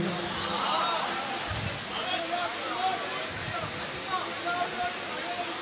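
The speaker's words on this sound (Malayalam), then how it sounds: "മഴ തുടങ്ങി." Rain patters in a continuous, broad hiss over an outdoor political rally at Kannur stadium, steady throughout, with a crowd murmuring and a voice speaking underneath.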